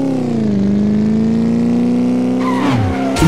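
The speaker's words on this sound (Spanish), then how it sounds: "Nuevamente he chocado con otro auto." In a motorbike racing video game, a loud, droning engine holds a steady pitch before a motorcycle crashes into a car. Near the end, abrupt scraping and impact noises break into the engine tone.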